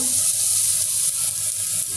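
Lentil fritters (dal bora) sizzle steadily in hot oil beside a Bengali prawn dish, a close, continuous crackling fry with no break throughout.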